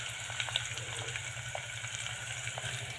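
Spices fry in plenty of hot oil for methi kadhi, giving a steady soft hiss with scattered faint pops over a low background hum, heard alone without talk.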